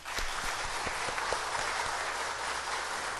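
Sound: congregation applauding to welcome an elder

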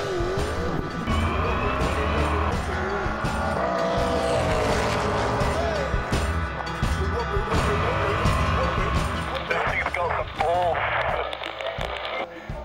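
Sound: Holden Sandman V8 Supercar engine driving off for a lap

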